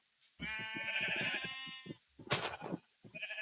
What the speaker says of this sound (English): you can hear those sheep eating, can't you?